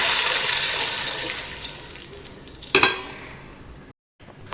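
Water is poured into a pot of rice for egg biryani, a steady rushing splash that swells briefly near the end before cutting off abruptly.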